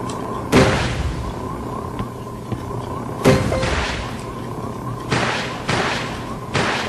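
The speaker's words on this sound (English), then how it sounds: "now I should be able to fire missiles quite a bit quicker" Missiles fire and explode in the video game Kodu, a few loud booming blasts with rumbling tails spread over a low steady game hum.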